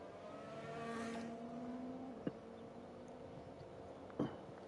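Race cars, including a Ferrari and a Mercedes, run at Abu Dhabi in a sim racing game, engines whining at moderate distance with a pitch sweep and a couple of sharp knocks.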